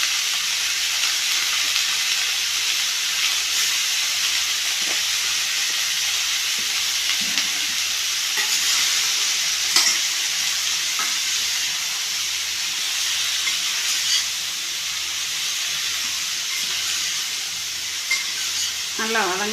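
Bitter gourd pieces sauté with turmeric in a hot pan, giving a steady broadband sizzle with soft stirring scrapes throughout, close and continuous, with no voices.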